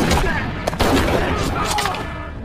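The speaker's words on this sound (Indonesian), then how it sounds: "yaitu dengan menembakkan peluru karet." Rubber bullets fired in a film scene of a prison gang fight: several sharp gunshot cracks break through a dense, loud, noisy backdrop over about two seconds.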